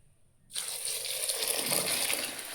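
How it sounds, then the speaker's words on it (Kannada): Water pours steadily into a cooking pot while making bisi bele bath, starting abruptly after a brief quiet moment and continuing as a close, bright, gushing splash throughout. "ಇವಾಗ ನಾನು ನೀರನ್ನ ಆ್ಯಡ್ ಮಾಡಿ"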